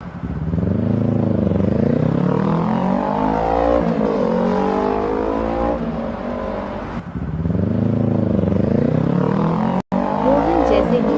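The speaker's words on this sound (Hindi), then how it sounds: "रोहन तेजी से अपनी बाइक से चला जा रहा था" Motorbike racing fast along a deserted road in a cartoon horror story, loud revving engine rising and falling through repeated gear changes, near and continuous.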